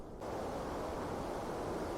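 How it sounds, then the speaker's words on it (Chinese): A steady wash of rushing water, broad and noisy, starting abruptly and holding constant for a couple of seconds. "只有水声。"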